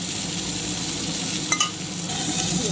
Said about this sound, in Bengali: দিয়ে দেবো পরিমাণ মতো নুন, দিয়ে ভালো করে ভেজে নেবো